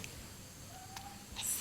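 A cat meows once, briefly and faintly, in a quiet room with a low background hum.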